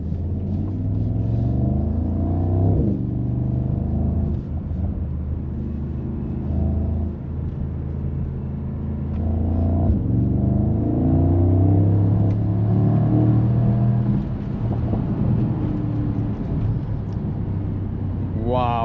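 2025 Mercedes-AMG SL 63 S E Performance hybrid roadster in Sport Plus mode: a deep engine drone rising and falling through several revving pulls, heard from inside the car under ongoing talk.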